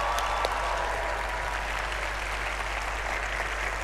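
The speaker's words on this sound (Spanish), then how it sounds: "Quiero pedir un fuerte aplauso para el señor Luke Jonathan" Sustained applause from a live comedy show audience in Mexico, dense steady clapping filling the whole stretch at a loud, even level with no voices on top.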